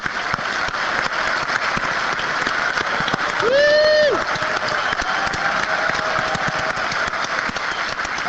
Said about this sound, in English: let's have a round of applause here to get that meter going through the roof